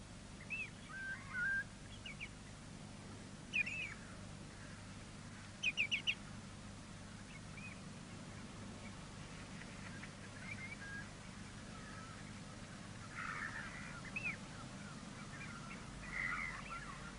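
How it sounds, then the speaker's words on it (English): Wildfowl across the flooded Shannon Callows meadows, scattered distant honks, whistles and clucking calls in short bursts over quiet wind-filled ambience. "These shallow lakes and lagoons attract wildfowl by the thousand."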